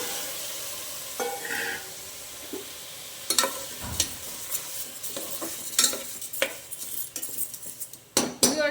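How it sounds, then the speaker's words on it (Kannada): Green gram is tipped into a simmering ridge gourd curry and stirred, giving scattered spoon scrapes and clinks against the pan over a soft sizzle, with no talking. "ಇವಾಗ ಇದಕ್ಕೆ ನಾನು ಹೆಸ್ರು ಕಾಳು ಹಾಕ್ತೀನಿ"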